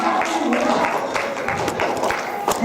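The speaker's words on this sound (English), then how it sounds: "Let's give all of our teachers a round of applause as they come up" Audience at an elementary school arts magnet showcase applauding teachers as they come up, a steady, dense wash of clapping from a crowd lasting throughout, with a few sharper individual claps standing out.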